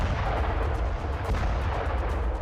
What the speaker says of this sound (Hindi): क्लस्टर बम विस्फोट कैसे होते हैं, इसे समझने के लिए ये तस्वीरें देखिए।